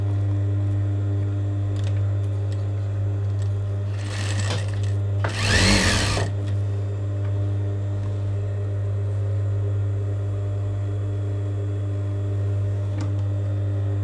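An electric sewing machine stitches fabric, its steady motor hum running throughout with two short bursts of fast, louder needle chatter near the middle; no speech.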